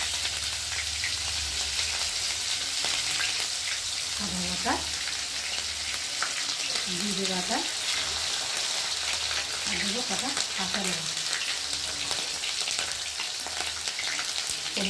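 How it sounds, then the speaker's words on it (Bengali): Cumin seeds and garlic fry in hot oil in a pan, a loud, dense, continuous crackling sizzle, with a few faint sounds in the background. "তো দেখো জিরেটা ভাজা ভাজা হয়ে গেছে এখন আমি দিয়ে দেব অল্প করে রসুন"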